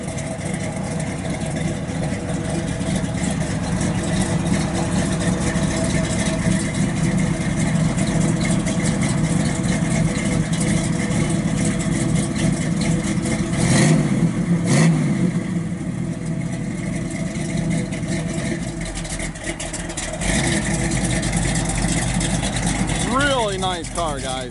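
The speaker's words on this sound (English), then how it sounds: "Sounds real good off the exhaust." A 1971 Chevrolet Nova SS V8 engine idles with a deep, steady exhaust rumble, swelling briefly in a rev midway before settling back, while someone talks over it.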